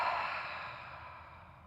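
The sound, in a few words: long exhale out the mouth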